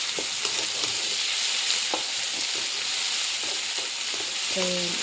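Tomatoes fry in hot oil for a rasam, with a continuous close sizzle and several light utensil taps and stirs. A brief tonal clink comes near the end.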